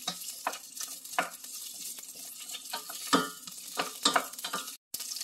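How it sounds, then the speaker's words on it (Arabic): Peppers sizzle and fry in hot oil in a pan, a crackling spatter broken by repeated scraping stirs and clacks of a utensil, close up and with no talking. "هنشوح الفلفل، حطينا شوية زيت وبعدين هننزل بالفلفل"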